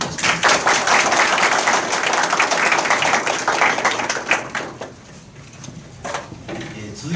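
At a university teaching award ceremony and lecture, the audience claps loudly in a full burst that gradually thins into scattered, separate claps as it dies down.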